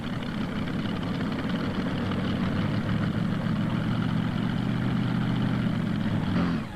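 Rolls-Royce V12 engine of a tractor-pulling vehicle, a steady, loud, deep low rumble holding throughout at a pull in Imlay City, Michigan, 1995, easing off only at the very end.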